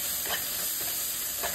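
Chopped small tomato added to onion and masala frying in a pan for egg drop curry, giving a soft steady sizzle with a few faint stirring scrapes, close and continuous.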